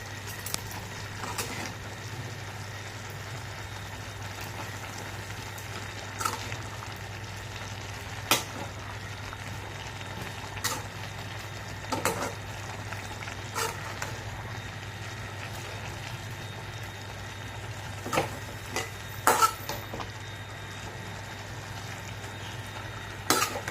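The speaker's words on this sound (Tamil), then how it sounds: "நல்லா மிக்ஸ் பண்ணி விடுங்க" Biryani-style vermicelli (semiya) is mixed into boiled vegetables in a cooking pot, with a steady low bubbling hum and scattered scraping strokes and clinks across the stretch. No voices are heard.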